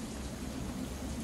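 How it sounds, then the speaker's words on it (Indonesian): Light drizzling rain pattering steadily, a soft continuous hiss of fine drops with a low rumble underneath, with no one speaking. "Hanya suara rintik-rintik."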